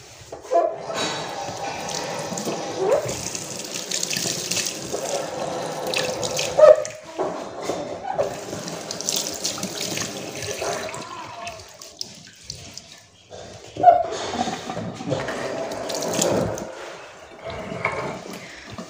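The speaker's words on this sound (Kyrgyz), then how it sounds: "бул жекте муздак суу чыгат экен" Cold water running from a sink tap in a school kitchen with several washbasins, a continuous close splashing and gushing flow with a few louder knocks, with faint voices in the background.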